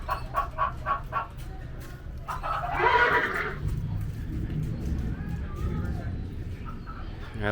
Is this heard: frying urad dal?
no